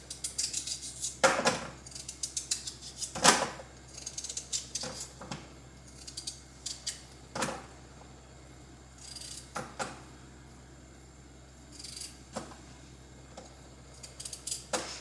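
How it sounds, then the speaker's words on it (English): A knife cuts potatoes into chunks for pot roast, with irregular sharp taps and clicks of the blade hitting the board, close and fairly quiet, with pauses between strokes. "let me go ahead and cut up my potatoes. Cut them in little chunks to go in my pot roast."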